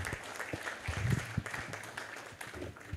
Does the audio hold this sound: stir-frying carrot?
no